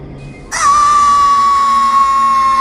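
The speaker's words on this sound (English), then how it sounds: "Why are you screaming?" A game character in Psychonauts lets out a sustained high-pitched scream that starts abruptly and holds steady at a loud, near level, with a faint game background underneath.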